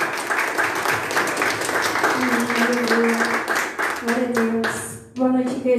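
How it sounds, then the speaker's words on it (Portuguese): Congregation applauding during a church service, a steady broad wash of clapping running through the whole stretch with sustained tones and voices rising over it near the end. "Você pode aplaudir o Senhor Jesus"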